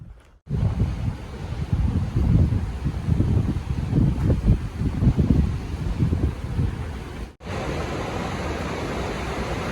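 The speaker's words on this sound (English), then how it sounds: "check out this waterfall" A waterfall on a hiking trail gives a loud, continuous broadband roar of rushing water that swells and churns before briefly cutting out and resuming at a steady level.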